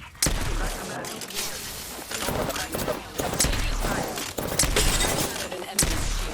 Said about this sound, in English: Machine up. Firing. Taking fire.